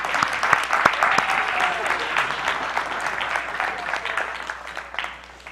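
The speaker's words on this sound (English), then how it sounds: "Give yourself a hand clap going back down there" A church congregation applauds, a sustained, fairly loud wash of many hands clapping that slowly fades, while a preacher's voice talks over it.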